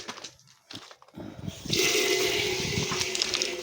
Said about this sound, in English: let me just turn the water on.